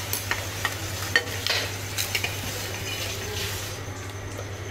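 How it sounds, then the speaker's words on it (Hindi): Chopped onions sizzle and fry in a kadhai for egg curry masala, a steady crackling hiss with scattered stirring scrapes and clinks over a low hum. "अब इसमें कटे हुए प्याज है जिसको हम डालेंगे"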